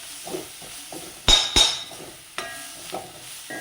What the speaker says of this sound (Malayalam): അപ്പോൾ ഒരു തക്കാളി ചെറുതാക്കി അരിഞ്ഞത് അതിലേക്ക് ഇട്ട് കൊടുത്തു.